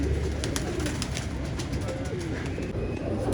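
Racing pigeons kept as a hobby in Jamshedpur, Jharkhand coo steadily and nearby over a constant background hum, their rolling calls repeating without pause.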